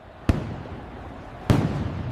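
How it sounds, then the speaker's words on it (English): Traditional Japanese fireworks boom over a river in two distant, heavy blasts about a second apart, each followed by rumbling echo and background crowd murmur. "What is that loud booming noise coming from down by the river? Is that fireworks?"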